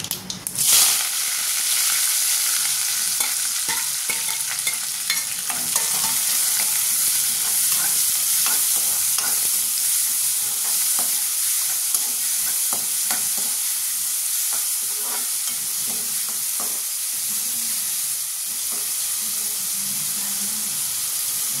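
Curry leaves, cinnamon and cloves spit and splutter in hot tempering oil, a loud, dense sizzle with crackling pops that runs continuously and close for the whole stretch, with occasional stirring.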